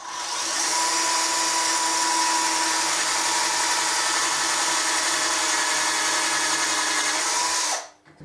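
A power drill with a 1/4 inch bit whines steadily at high speed for several seconds, close and loud, boring holes in walnut, then cuts off abruptly.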